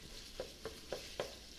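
Ground meat browning in a pot for lasagna, a soft continuous sizzle broken by five evenly spaced scraping strokes of a utensil, quiet and close.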